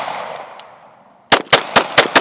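Five sharp, loud Glock pistol shots ring out in quick succession after a fading tail and silence, each crack close and punchy.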